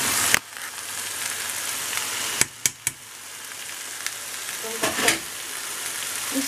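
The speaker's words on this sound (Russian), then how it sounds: "И все, теперь немного обжариваем прям." Chickpeas frying in a pan with garlic, a steady close sizzle with a few sharp clicks and pops of stirring partway through; no talking.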